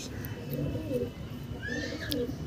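Andhra pigeons, a foreign breed kept for tournament flying, coo in low throaty rolling phrases, close by, with a couple of brief higher calls mixed in.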